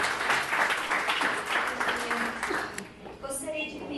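A church congregation claps during a worship service, a dense burst of applause that fades after a few seconds and gives way to a voice.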